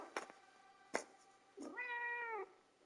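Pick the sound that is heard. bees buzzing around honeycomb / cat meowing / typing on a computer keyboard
cat meowing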